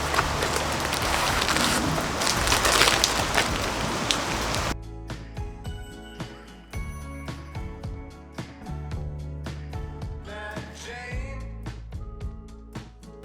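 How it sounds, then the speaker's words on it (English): Heavy rain pours as a dense, steady hiss for several seconds, then gives way to scattered drips and taps on hard surfaces nearby. "it's raining a lot."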